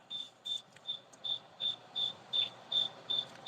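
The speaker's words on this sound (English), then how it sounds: "that cricket is testing my patience, guys" A single cricket chirps close by in a steady, evenly spaced pulse of about nine shrill bursts over quiet background, with no talk.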